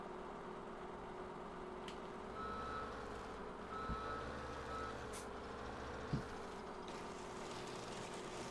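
Steady electronic reversing beeps from a logging truck in the farming video game Farming Simulator 17 at night, repeating evenly over a constant engine drone, with a few brief hisses and clunks.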